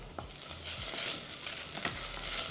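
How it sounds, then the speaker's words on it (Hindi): Ginger garlic paste frying with onions in a pan for a veg liver fry, a steady moderate sizzle with a few soft scrapes and stirring knocks, no voices. "अब एक बड़ा चम्मच अदरक लहसुन का पेस्ट ये डाल के वापस 2 मिनट"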